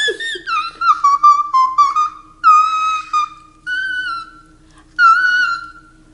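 A person whistles a melodic tune in clear, bright phrases with short pauses between them, close and fairly loud, with no talking.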